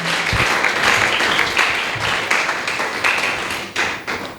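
A church congregation applauds the Lord, a dense continuous wash of clapping from many hands that stays loud throughout, with a few sharper individual claps standing out near the end.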